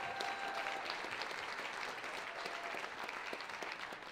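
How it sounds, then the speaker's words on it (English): Audience at a folk music event in Montreal applauding the Hillside Festival, a steady wash of clapping from a crowd, fairly faint and distant throughout. "Give another round of applause to the Hillside Festival,"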